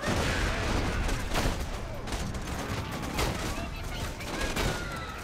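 Dense gunfire from enemies and a turret in the video game Borderlands 2, a loud continuous fusillade of overlapping shots and bursts with no clear gaps.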